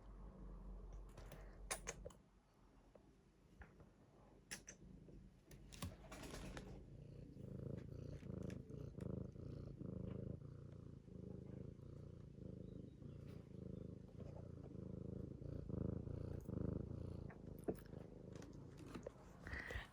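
Cat purring close by, a soft continuous low rumble running steadily throughout, with scattered small clicks and rustles over it.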